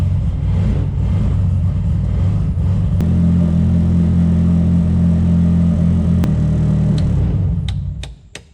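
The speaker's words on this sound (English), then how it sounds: "we'll open the garage, start the car up, and see if it works" A BMW S14 engine in a car inside a garage runs with a loud, steady, deep rumble for several seconds, then winds down and cuts out near the end.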